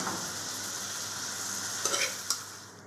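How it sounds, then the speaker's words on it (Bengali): Boiled banana flower dropped into a frying pan, a steady hiss of hot oil sizzling close by, with a couple of clinks and scrapes toward the end. "তাই জন্য আমি এবার সিদ্ধ করা মোচাটা এর মধ্যে দিয়ে দেবো।"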